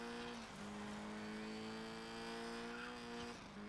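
Racing car engine in DiRT 5 holding a steady high drone with tonal whine, dipping briefly as the car brakes near the start and end, loud and continuous with no talk.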